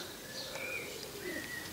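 Pigeon cooing and chirping near a nest outdoors, a few soft calls repeating over a faint steady background, fairly quiet and with no talking.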